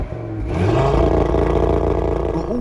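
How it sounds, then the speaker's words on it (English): A 2018 Audi RS3 engine pulls hard from low revs, a loud rising five-cylinder growl that climbs steadily and stays close throughout, with no talking. "the sound of this Audi RS3"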